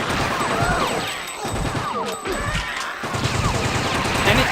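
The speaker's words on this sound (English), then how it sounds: "Now, equip your machine pistol," Machine pistol bursts ring out in the Fear Effect video game during a boss fight, firing in dense rapid volleys mixed with crashes and booms throughout.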